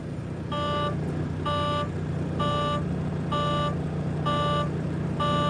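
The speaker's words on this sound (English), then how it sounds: "I know y'all hearing this beeping noise" A 2019 Volvo 760 semi truck's warning alarm beeps in a steady, evenly spaced rhythm, six tones over a low idling engine rumble.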